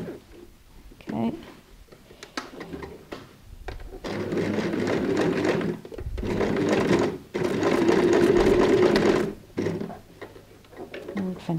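Sewing machine stitching a tote bag handle sewn from thick curtain fabric, running in several loud bursts of rapid stitching separated by short pauses, with a voice speaking between bursts.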